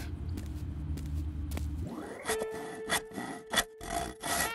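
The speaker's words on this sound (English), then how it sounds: "The sawing sound effect, I, I don't know why, but I really hate it." Rough back-and-forth sawing sound effect from a crafting video game, several quick rasping strokes in a row, loud and close, following a low rumbling ambience.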